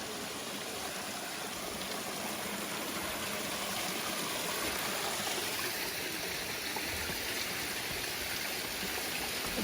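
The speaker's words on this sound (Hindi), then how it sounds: "ये पानी का फ्लो इधर से ऊपर से आ रहा है" Water flows down from above into a small tub at the entrance of a hill-station hotel in Vagamon, a steady, close, rushing stream that stays even throughout with no voices.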